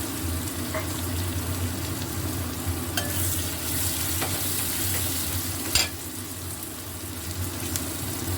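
Chopped onion sizzles steadily in a hot pan while a vegetable dish is being cooked, with a constant crackling hiss and occasional utensil clicks and stirring sounds, close and continuous with no talking.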